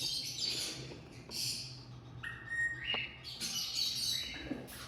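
Pet birds at a breeder's bird shop in Islamabad chirp and squawk in overlapping bursts, bright tweets and short calls coming close and moderately loud, with no talk.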